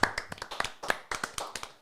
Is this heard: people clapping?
yes